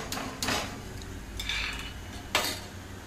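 Fried peanuts being lifted out of hot oil in a pan, several metal clinks and scrapes of a slotted spoon against the vessel over a faint background sizzle, no voices.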